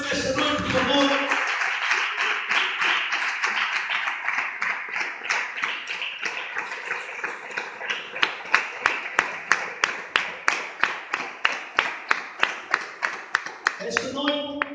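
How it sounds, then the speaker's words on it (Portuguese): A church congregation at Igreja Filadelfia in Estoril applauds for God during a sermon, starting as a dense wash of clapping that settles into steadier, rhythmic claps, with a voice over it. "Podes dar um aplauso para Deus esta noite, por favor."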